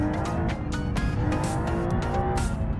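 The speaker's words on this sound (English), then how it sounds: "Oh, drifting." Rally car tires squealing as it drifts through a hillclimb corner in the BeamNG driving game, a loud continuous engine drone under repeated sharp screeches, with no voices.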